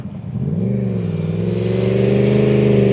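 A Yamaha R1 motorcycle engine hums steadily at close range as the bike is ridden slowly around a test centre course, the throttle rising gently and holding a smooth, even drone with no one speaking.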